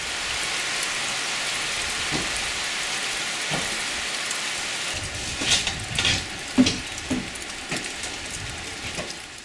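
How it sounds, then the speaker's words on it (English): Steady rain in the Naga region of Myanmar hisses across a surface throughout, with scattered louder drops and splashes growing more frequent toward the end. "And the rain is coming."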